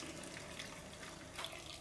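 Freshly boiled, still-bubbling hot water poured from a kettle over tomatoes packed in a jar for preserving, a steady close rushing, gurgling stream that fills the jar without pause.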